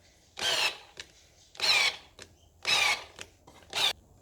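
A small Wiha 4V electric screwdriver driving oversized screws whirs in four short bursts with brief pauses between them, close and clear.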